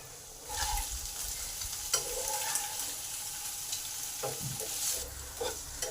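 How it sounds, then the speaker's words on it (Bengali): Paneer pieces frying lightly in a pan, stirred gently now and then: a steady close sizzle with soft scraping strokes throughout. "পনিরগুলো আমার হালকা করে ভাজা হয়ে গেছে"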